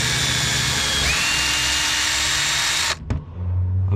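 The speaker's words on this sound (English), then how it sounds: "Now I'm just going to put the first hole in here" A power drill bores the first hole for mounting a 12V socket bracket, a loud steady whine running about three seconds up close, then stopping abruptly with a short clunk and a low hum left behind.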